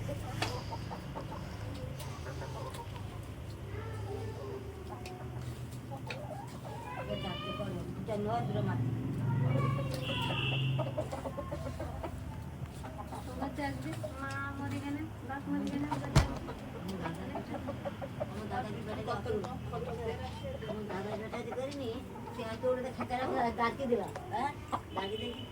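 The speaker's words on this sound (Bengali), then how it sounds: "মুরগিকে খাবার দিচ্ছে।" Chickens cluck and chatter close by while being fed at an old rural home, with a rooster-like call among them and people talking in the background throughout.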